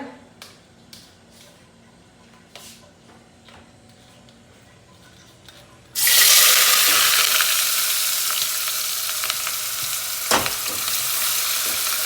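Onions dropped into hot oil in a pan burst into a sudden loud sizzle halfway through, after quiet faint clinks, then keep frying steadily with occasional stirring scrapes.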